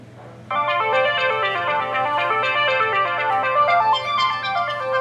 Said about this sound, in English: let's make a phone call and see if it can still receive calls